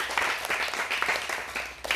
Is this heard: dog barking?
no